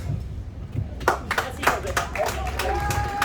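A few scattered hand claps over a low murmur of voices in a room, irregular rather than a full sustained round of applause.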